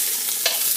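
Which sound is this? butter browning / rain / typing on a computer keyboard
butter browning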